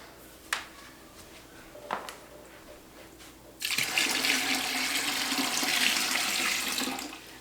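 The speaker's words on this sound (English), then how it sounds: "I'm just gonna put a little more water in." Water pours onto the roots of a potted fruit tree, a steady splashing gush that starts suddenly after a few soft knocks and runs for about four seconds before tapering.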